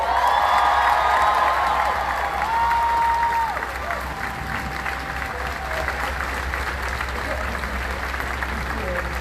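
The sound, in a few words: crowd applause at a rally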